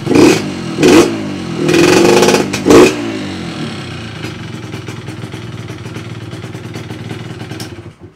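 A 125 motorcycle with a standard exhaust pipe revs hard in several sharp bursts, exhaust barking, then settles into a steady rumbling idle close by.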